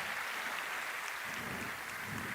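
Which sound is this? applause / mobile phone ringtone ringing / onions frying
applause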